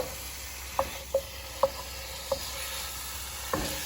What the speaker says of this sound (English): Now I'm just going to brown the meat